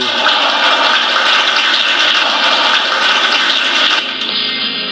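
A crowd cheers and applauds after a score at a friendly ice hockey match between Thailand and China. The roar is dense, loud and continuous, with no break, and eases slightly near the end.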